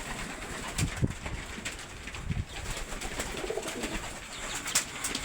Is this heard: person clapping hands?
no